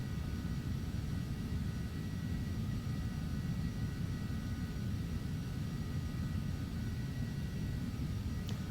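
Steady, droning jet engine noise from an Embraer Phenom 300 business jet approaching Nantucket on the back course for ILS runway 6, a constant low rumble heard from inside the aircraft.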